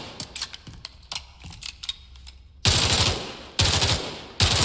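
Loud bursts of rapid SMG fire from the tactical shooter Spectre Divide come in three sustained volleys after a stretch of softer clicking and movement sounds, with no voices.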